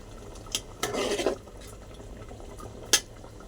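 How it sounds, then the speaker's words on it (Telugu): Prawn and gongura curry stirred in a pan, with a few distinct scraping strokes and clinks of the spoon against the metal over a faint background sizzle. "గోంగూర ఇలా కలిపితే రొయ్యలు విడిపోకుండా చాలా బాగుంటుందండి"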